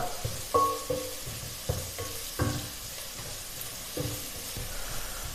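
Chopped onion with half a teaspoon of salt, the base for a chickpea curry, is stirred in a pan. A soft sizzle runs under intermittent spatula scrapes and knocks against the pan.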